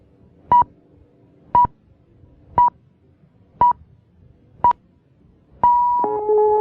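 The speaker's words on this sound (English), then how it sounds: "At the sound of the last tone, it will be 16 hours Central European time." An American Forces Network Europe radio time signal plays five short, evenly spaced pure beeps about one second apart, followed by a longer final tone, crisp and loud with no speech.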